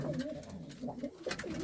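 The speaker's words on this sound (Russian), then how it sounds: "Сейчас хочу собрать голубей в клетку, вынести на огород" Nikolaev pigeons in the Donetsk region cooing, several soft throaty rolling calls repeating close by over faint background noise, with no talk.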